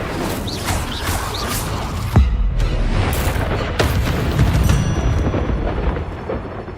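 Confringo blast spells in Hogwarts Legacy set off loud, booming explosions, with a sharp impact around two seconds in followed by rumbling crashes and further bursts over a dense background, with no talking.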